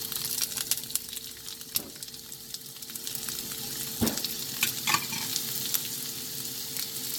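Onions and mushrooms fry in oil in a preheated pan for beef burgers, giving a steady crackling sizzle broken by a few louder stirring scrapes. Close and continuous, with no speech.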